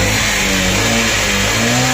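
A Bajaj CT BS6 motorcycle engine with an abnormal noise runs loudly and steadily up close, a continuous mechanical drone with no voices.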